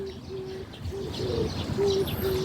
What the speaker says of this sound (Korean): 새가 울고 있네.